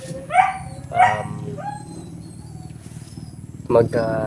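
A dog barks a few times, loud and close, with short gaps between barks, and a person speaks near the end.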